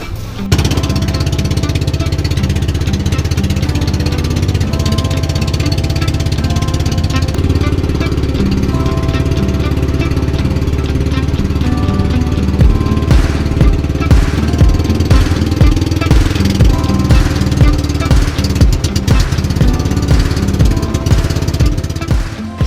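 A loud, steady motor boat engine drones throughout, with a chugging rhythmic pulse growing more pronounced toward the end, in the Bicol Region of the Philippines.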